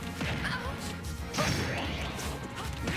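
Soccer ball strikes in a Super Smash Bros CPU fight involving Wii Fit Trainers, sharp cracking smashes and whooshes in quick succession, loud and close amid busy game effects.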